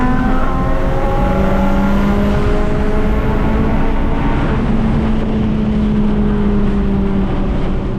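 A Honda Civic Type R FK8 race car runs at the end of a lap on track, its engine loud and close in a sustained, rising and falling drone with clear harmonic tones as it shifts and slows.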